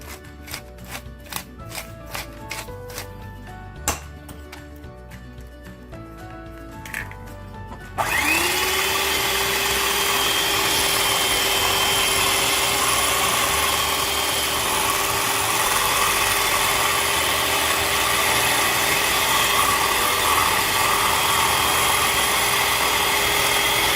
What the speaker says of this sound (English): So we're going to start beating these up with some salt and pepper.